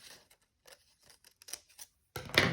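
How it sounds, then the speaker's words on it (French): Scissors snip fabric in short, quiet crisp bursts, ending with a louder longer cut, close up with no speech. "Je vais venir maintenant prendre mes ciseaux et je vais venir découper."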